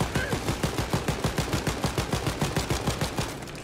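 Rapid, evenly spaced rifle shots from a sniper rifle in the video game Wolfenstein Youngblood, a steady rhythmic string of about twenty close, punchy reports with no talking.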